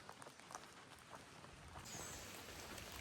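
Light rain patters steadily on the Appalachian Trail, quiet and continuous, a soft hiss of drops on nearby surfaces.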